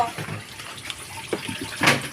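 A twin tub washing machine under repair for a drain problem, releasing water in a gurgling, splashing flow like a running tap, with a louder gush near the end and brief voices.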